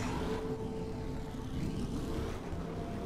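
Steady low engine drone of a third-generation Chevrolet Camaro muscle car in The Crew racing game, a continuous even rumble with a slight whir and no speech.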